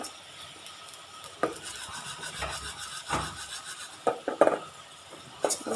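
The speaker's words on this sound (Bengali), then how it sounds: "এখন হলো আমি জিরা টেলে নিচ্ছি" Cumin seeds dry-roasting in a pan for a fish curry, with soft scraping stirs, a faint crackle and a few sharper clinks of utensil against metal, close by and with no voices.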